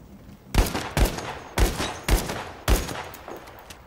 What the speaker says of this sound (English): I got shot at right now.